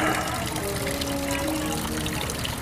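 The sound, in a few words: water draining out of a hole in a salvaged boat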